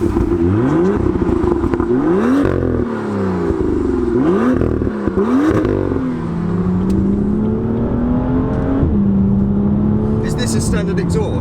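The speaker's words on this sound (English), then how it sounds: "Standard BMW exhaust. It's not the worst sounding." A BMW M2 on the road with its standard BMW exhaust, revving and pulling through several gear changes with rising and falling engine notes, loud and close from inside the car, with talk over the drive.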